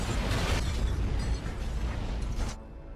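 A heavy bomb explosion rumbles and crackles with debris for a couple of seconds before the roar cuts off into a quieter low tail.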